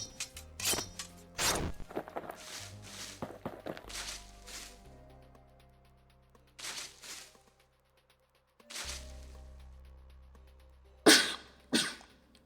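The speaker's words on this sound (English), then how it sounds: "I usually sneeze in 3s." A person sneezes several times in a row, close and loud, with quieter pauses and a sharp final sneeze after a gap, over a low steady background hum.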